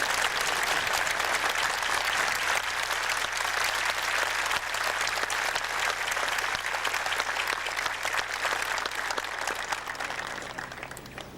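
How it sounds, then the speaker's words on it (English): At a 1993 Marine Corps recruit graduation at Parris Island, a large audience gives a loud, continuous round of applause for the officers and drill instructors, holding steady for over ten seconds before easing slightly at the end. "won't you please join me in a well-deserved round of applause"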